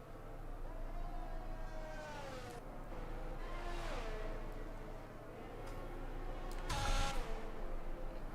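Race car engines roar in a sim racing game at the Netherlands round, a steady droning whine with pitch rising and falling through gear changes, and a brief louder burst near the end.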